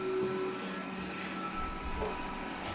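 A robot vacuum cleaner runs on its first start in a home hallway, giving a steady whirring hum with a faint high whine that stays level and close.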